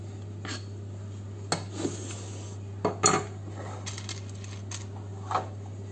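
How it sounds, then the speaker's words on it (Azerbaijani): A knife slicing sausage into rings on a board in a home kitchen, several separate clicking cuts and taps spread unevenly over a few seconds, close and fairly quiet over a low steady hum, with no talking. "Eləcə sosiskanı da belə doğrayıram halqa-halqa."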